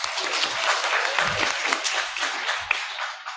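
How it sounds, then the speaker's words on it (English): Applause from a seminar audience at a law faculty event, a steady even wash of many people clapping, moderately loud and continuous throughout with a faint low murmur beneath. "Let's give applause to him,"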